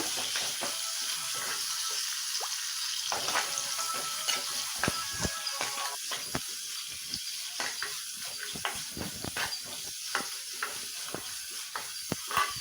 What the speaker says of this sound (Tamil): நல்லா மீடியம் ஃப்ளேமில் வச்சு வெங்காயம் வதக்கிடுங்க.